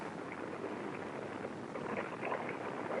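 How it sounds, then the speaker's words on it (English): Eight rocket engines of a Saturn I booster firing together in a static test roar as a steady, broad, rushing blast that holds constant throughout, with no voices. "Finally, many weeks later, with all 8 engines running."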